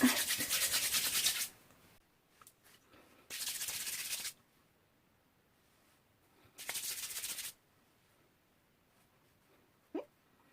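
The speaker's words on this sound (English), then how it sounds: "as I'm running my fingers through the hair" Fingers run through the curls of a synthetic wig in three soft, close rustling strokes, each lasting about a second, separated by near silence and followed by a tiny tap.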